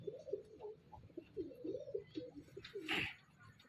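Pigeons coo in soft, rolling, repeated murmurs close by while eating grain, with a brief flutter or rustle near the end.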